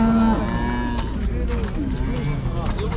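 Cattle at a livestock market: loud, close lowing and mooing from several animals overlapping, with a busy crowd murmur underneath.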